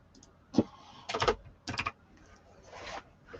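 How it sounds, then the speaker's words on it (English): Several short bursts of keyboard typing, quick clattering key presses in three or four clusters separated by brief pauses, close and fairly quiet. "There we probably hear me typing again."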